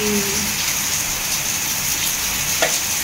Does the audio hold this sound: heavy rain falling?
yes